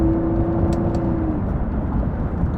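Nissan GT-R accelerating through its first gears under paddle-shift control, a steady close engine drone with a brief whine early on and a couple of faint clicks, no talking.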